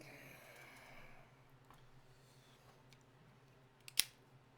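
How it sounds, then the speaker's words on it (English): A V-cut cigar cutter snaps through the cap of an Espinosa Comfortably Numb Volume 1 cigar in a single sharp, close click near the end, preceded by quiet room tone and faint breathing. "We're going to cut this right here, right now. Perfect V-cut, right there off the rip."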